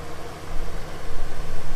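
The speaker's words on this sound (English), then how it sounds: "Let's let these people listen to this beautiful V10." A 2012 Ford F550 truck's V10 engine idles steadily outdoors, a loud, close, even rumble with a slight rhythmic pulse and wind noise mixed in.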